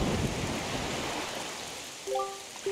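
Steady rain pours across a cursed island in a video game, a dense wash of falling water throughout with a low rumble near the start; faint tonal game sounds rise briefly near the end.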